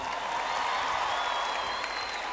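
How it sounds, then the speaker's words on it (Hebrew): A live concert crowd applauds the musicians on stage, a steady, moderately distant wash of many hands clapping with faint crowd noise mixed in. "תעשו להם כפיים."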